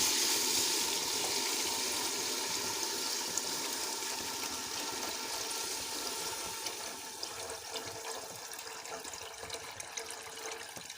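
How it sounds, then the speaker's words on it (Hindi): Water added to cooked masala in a pot for a matar dal, making a steady pouring and bubbling rush that slowly eases over several seconds with no speech. "अब मैं इसमें पानी मिक्स करूंगी।"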